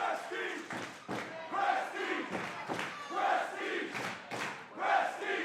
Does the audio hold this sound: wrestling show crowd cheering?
yes